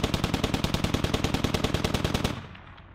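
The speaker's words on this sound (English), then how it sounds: "We can see these guys trading fire at quite a distance here" Rapid automatic gunfire in the military shooter Squad, a loud, evenly spaced burst of about twenty-five shots lasting over two seconds before cutting off into a short echoing tail, with no voices.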